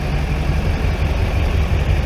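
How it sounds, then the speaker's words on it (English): A pickup truck with straight-piped exhaust idling, a loud, deep, steady rumble with a constant throb, close up and alone with no voices. "My straight piped exhaust. It's loud, it's obnoxious, but I love it."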